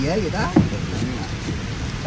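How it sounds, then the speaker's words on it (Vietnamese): Light, steady drizzle falls outdoors by a riverside, a soft continuous patter filling the background while a voice speaks briefly over it. "Mưa cũng không có lớn mà lâm râm mà lâm hoài"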